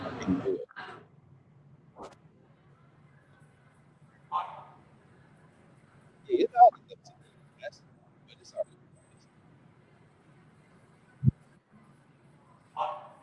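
A few sharp dog barks ring out intermittently in a quiet room, separated by pauses, with a low steady hum underneath.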